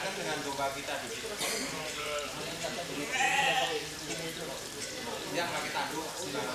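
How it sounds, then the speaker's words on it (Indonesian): Sheep bleat several times on a livestock farm project in Cibungbulang, Bogor, with people talking throughout and background crowd noise, one louder bleat standing out midway. "Silakan Pak, dikenalkan dengan domba kita di sini."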